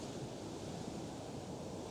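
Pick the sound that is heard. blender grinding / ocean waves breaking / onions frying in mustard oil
ocean waves breaking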